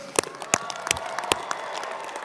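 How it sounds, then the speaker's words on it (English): Graduates and guests at a medical school commencement clap, with a handful of sharp, separate claps ringing out at an uneven pace over a softer bed of scattered applause that fills the hall. "Let's have a round of applause"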